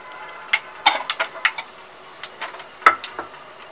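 Fenugreek seeds tipped into hot oil over a low flame for an arvi-leaf and besan curry crackle and pop in quick, scattered bursts, close and fairly bright against an otherwise quiet pan.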